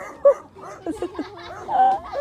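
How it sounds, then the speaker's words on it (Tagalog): Several small dogs yip and bark in short, close bursts, mixed with people talking nearby. "ang dami nyo palang aso"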